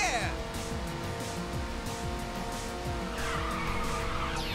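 Car in the video game Ridge Racer 6 drifting with nitrous, with an engine roar and continuous tire squeal and skidding, close and steady, under a player's voice talking over it.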